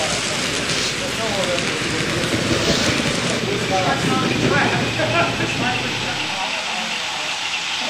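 Model diesel locomotives, including a Great Northern FP unit, roll past on a club layout with a steady, close rumbling hiss that cuts off near the end, under a murmur of background voices.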